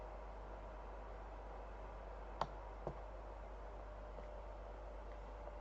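Two quick, faint clicks of a computer mouse, about half a second apart, over a low steady hiss and hum, with no talking.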